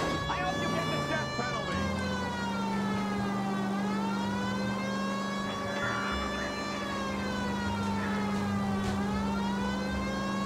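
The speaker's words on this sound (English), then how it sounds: "The siren." A police car siren in the L.A. Noire video game, wailing in long rising and falling sweeps over a steady engine drone, loud and close with faint game dialogue underneath.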